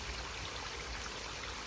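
Water trickles over stones in a small garden pond waterfall on a cloudy afternoon, giving a faint, steady splashing wash with no breaks.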